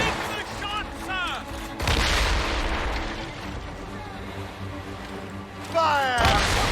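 Ship cannons boom in a naval battle in Assassin's Creed Rogue, heavy low blasts rolling through the clip amid battle noise and whistling sounds, with shouted orders and voices in the background.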